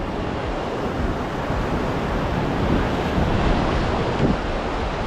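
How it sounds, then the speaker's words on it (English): A strong ocean breeze roaring steadily across the microphone near the shore, a loud continuous rush with waves and gusts swelling slightly throughout. "So there's definitely a strong breeze coming from my right heading to my left."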